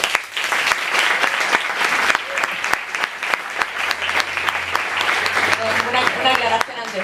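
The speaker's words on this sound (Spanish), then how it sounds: "Un aplauso para ellos." An audience applauds panelists at an academic history panel, with dense steady clapping and a low hum underneath, fairly close and full throughout.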